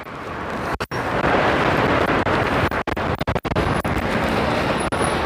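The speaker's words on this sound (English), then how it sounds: "Let me see if that was just a gust." Strong wind gusts batter a microphone outdoors in Las Vegas at night, a loud roaring buffet broken by several abrupt momentary dropouts, with faint traffic beneath.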